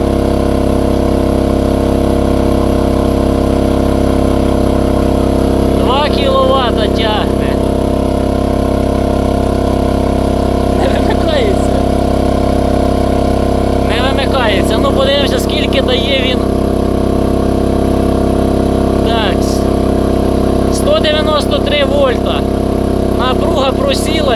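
A BLITZ portable generator engine runs at a steady drone throughout, its speed sagging slightly as a 2 kW load is applied, with people speaking intermittently over it.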